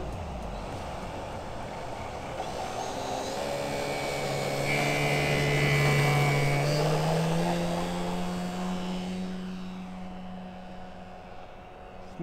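Electric radio-controlled Tiger Moth model biplane with a 2150 mm wingspan flying at half throttle, a steady whining motor and propeller drone that swells as it passes closer, then fades slightly.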